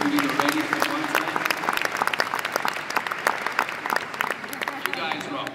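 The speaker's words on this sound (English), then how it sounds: "Give yourself a huge round of applause just now" Dense, steady applause from a large audience at a business school opening ceremony, fast overlapping claps sustained throughout at close range.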